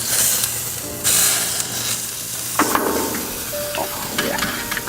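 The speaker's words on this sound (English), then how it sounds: "what I want to do here is give her a flip so I can get a good reading on the meat." Beef ribs sizzle on a Blackstone flat top griddle with a steady hiss, broken by scraping and clinking from a spatula flip and a few brief bursts of louder crackle.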